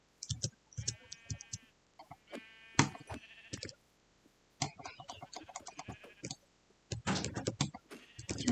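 Sheep in the video game Minecraft bleating several times in short wavering calls, mixed with sharp clicking game sounds, and someone talking intermittently.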